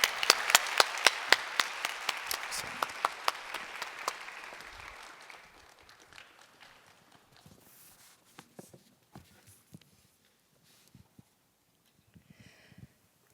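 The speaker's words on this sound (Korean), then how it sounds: "우리 박수로 맞이해 주시길 바랍니다." A church congregation applauds during a Christmas service, dense clapping for about four seconds before thinning into scattered claps and faint shuffling, with no talk.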